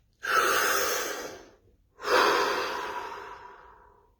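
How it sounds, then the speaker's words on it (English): Two slow, deep breaths follow one another in a quiet room during a guided breathing session. Each is a long, close, airy exhale that gradually fades. "Deep breath."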